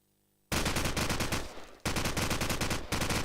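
Rapid automatic gunfire in Call of Duty 4, shot through a wall in a competitive match, bursting loud after a moment of quiet, briefly dipping, then resuming in a dense, sustained stream with no voices.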